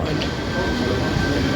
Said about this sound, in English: Oh, this is the Milton Keynes train.